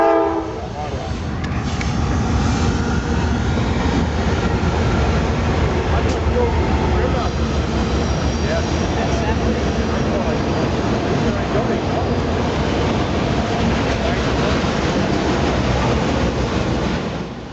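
An eastbound auto rack freight train led by a rebuilt Dash 9 locomotive rolls past at close range in Harrisburg, a loud, continuous rumble and clatter of wheels and cars that fills the whole stretch.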